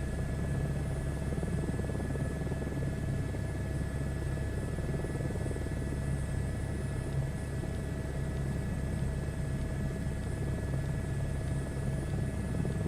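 A Chinook twin-rotor helicopter flies in Microsoft Flight Simulator 2024, its engines and rotors giving a steady, unbroken drone with a constant turbine whine, heard alone with no talk.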